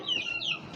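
Backyard chickens clucking close by in the morning, a short run of bright high clucks with a faint crowing quality, with no talk over it.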